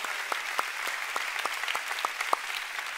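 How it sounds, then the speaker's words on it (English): A church congregation applauding together, a dense, even wash of clapping with a few louder individual claps standing out nearby. "Let's give the Lord a big clap."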